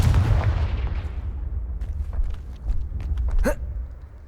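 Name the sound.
Confringo fire spell cast, video game Hogwarts Legacy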